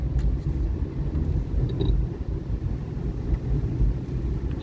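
Steady rumbling road traffic pours in through an open car window on a congested one-way street, a continuous low roar with wind buffeting and no voices.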